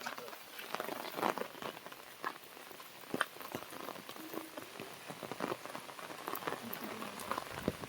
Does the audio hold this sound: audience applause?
no